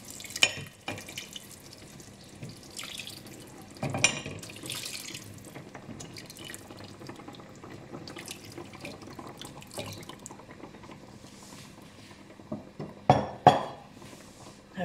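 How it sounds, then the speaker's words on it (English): Hot water runs into a pan of Bangladeshi-style fish curry, a steady pouring wash with occasional clinks of pan and utensils and a few sharp knocks near the end. "So now I'm going to add 300 milliliters of hot water."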